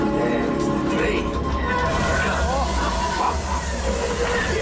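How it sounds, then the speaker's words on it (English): A simulated train rumbles and hisses steadily inside the Smugglers Run Millennium Falcon ride simulator, a loud continuous mechanical roar with clattering, while people talk over it. "There's the train."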